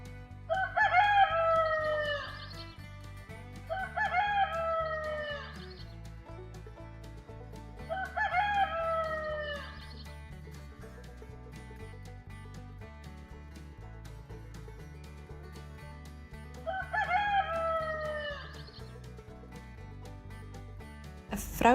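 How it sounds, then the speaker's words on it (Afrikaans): A farmyard rooster crows four times at spaced intervals, each a loud, drawn-out cock-a-doodle-doo, over a steady backing of music with no talking. "Hane, kraai."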